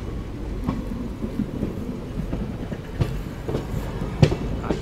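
The Night Queen Express running on rails between Bengaluru and Mandya, a steady low rumble with faint rhythmic clacks and occasional sharper knocks, continuous and moderately close.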